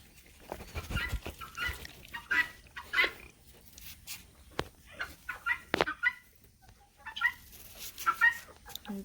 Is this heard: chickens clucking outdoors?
yes